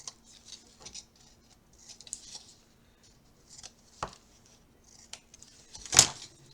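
Blade snips and cuts through cardboard while its edges are bevelled, a series of faint, sparse clicks and short scrapes with one louder sharp cut near the end, close and quiet.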